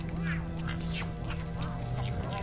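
A mutant rooster-like creature in the Bulb Boy video game gives off nasal, quacking squawks in quick succession over a low steady drone, fairly loud and close.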